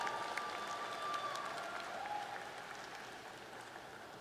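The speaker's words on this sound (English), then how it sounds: "Please also give a round of applause for our valiant readers, Professors Siva Selvan and Dantu." A graduation commencement audience applauds continuously in a large hall, a dense steady wash of many hands clapping that fades slightly toward the end.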